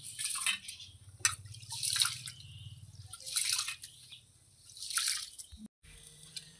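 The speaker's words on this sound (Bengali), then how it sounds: "আর এখানে চাল ধুয়ে নিচ্ছি" Rice is washed by hand in a pot of water, with repeated soft swishing splashes and drips in uneven bursts over a low background hum, close by and fairly quiet.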